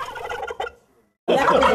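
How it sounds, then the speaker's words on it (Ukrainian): Heavy domestic turkeys weighing 12–15 kg gobble loudly and close on a farm, one burst of rattling calls, a brief silence, then another loud chorus of gobbling. "Поважні індики буквально атакують і своїх, і гостей."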